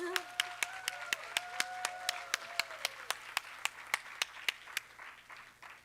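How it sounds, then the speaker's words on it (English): A single pair of hands claps in a slow, even rhythm of about twenty sharp, close strikes, with a voice talking over the first half before the claps fade out; a lone clapper stands in for an audience applauding Ted Shaw. "So let's give him another round of applause."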